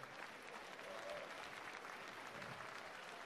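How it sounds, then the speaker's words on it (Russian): A large audience applauds at a professional Latin dance competition, the World Latin Cup 2019 paso doble round, dense sustained clapping at moderate distance with no pauses. "Они заслужили ваш аплодисмент."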